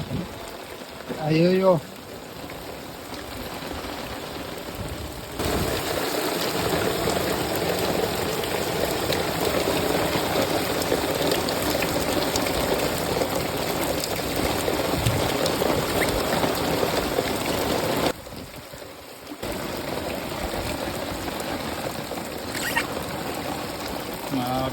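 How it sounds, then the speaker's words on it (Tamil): Heavy rain pours down in a steady, dense hiss that holds loud and even for most of the stretch, briefly easing near the start and again for a moment later, with a short exclaiming voice early on. "செம்ம மழை."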